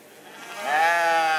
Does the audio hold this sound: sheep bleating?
yes